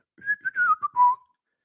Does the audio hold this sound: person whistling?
yes